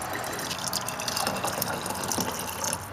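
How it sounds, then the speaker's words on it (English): Water sloshes, pours and drips as a container is rinsed and drained during silver coin and jewelry refining, a steady close splashing with no talking. "we're going to go ahead and rinse this, pour it off, and rinse it a couple more times."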